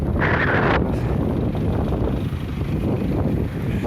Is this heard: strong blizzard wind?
yes